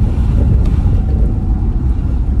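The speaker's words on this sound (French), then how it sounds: "Il faut donner le bon régime moteur." A car engine accelerates during a driving lesson in a 50 km/h zone in France, a steady low rumble with constant road and wind noise and no voices.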